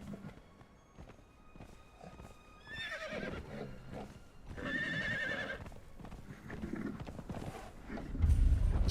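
A horse ridden in Conan Exiles whinnies loudly, with hoof steps and movement beneath game music, heard close and fairly prominent.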